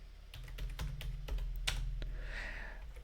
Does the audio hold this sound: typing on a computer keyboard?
yes